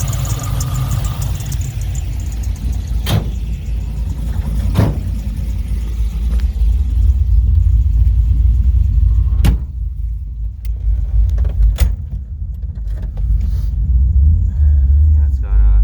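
A 1957 Chevrolet 150 Handyman restomod wagon with a six-speed transmission cruises along, its engine giving a loud, steady low rumble from inside the cabin, broken by a few sharp clicks and knocks.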